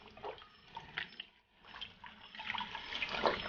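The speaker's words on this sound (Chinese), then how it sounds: "把羊肚洗干净。" Sheep tripe is washed under a running tap, with water splashing and trickling unevenly close by, easing off briefly before getting louder again. No one speaks.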